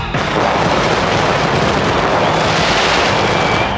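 Fireworks at an Orlando Predators arena football game: a loud, continuous roar of bursts and crackle filling the indoor arena, dense and unbroken throughout.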